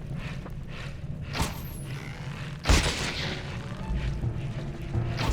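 Shots fired at an enemy in The Legend of Zelda: Twilight Princess inside the Cave of Ordeals, with one sharp crack midway and a heavier booming hit later, over a low rumbling game background.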